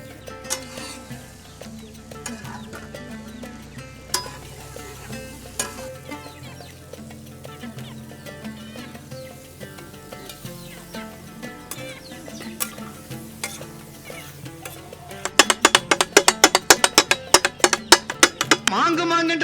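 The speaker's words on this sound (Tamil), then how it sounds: "அடுத்தது நம்ம பரோட்டா சிக்கன் சால்னா சேர்த்துக்கலாம்" Chicken salna poured onto chopped parotta on a hot pan, sizzling steadily while background music plays, then a burst of rapid metallic clatter from chopping and stirring near the end.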